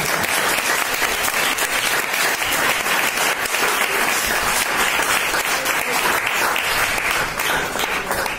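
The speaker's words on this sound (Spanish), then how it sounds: "Un aplauso" An audience at a talk about healthy living breaks into loud, sustained applause, a thick, continuous wash of clapping from many hands that holds steady throughout before easing off right at the end.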